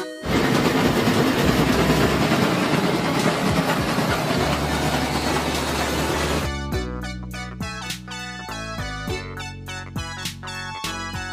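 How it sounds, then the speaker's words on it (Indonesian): A train rolls along rails with a loud, broad rumble for the first six seconds, then gives way to a series of distinct musical tones. "Kereta api."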